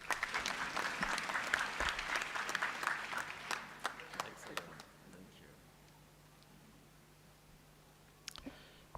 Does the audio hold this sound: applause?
yes